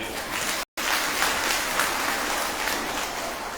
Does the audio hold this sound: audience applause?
yes